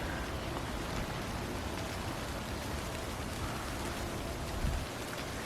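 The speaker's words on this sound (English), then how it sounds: "The rain is coming in at a slant." Monsoonal storm rain falls at a slant over a tomato garden, a constant close-up patter and hiss with one brief heavier splash near the end and no talking.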